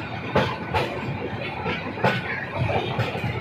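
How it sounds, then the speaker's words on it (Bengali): Burimari Express passenger train with its locomotive rolling along, a loud, steady rumble with rhythmic clickety-clack wheel beats over the rails, with no voices. "ওই যে দেখা যাচ্ছে আমাদের লোকোমোটিভ"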